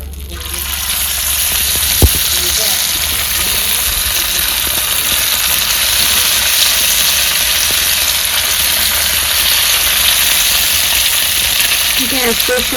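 Mandeli fish frying in hot oil on a wood-fired village stove, a dense continuous sizzle close by and steady throughout, with a single sharp knock near the start.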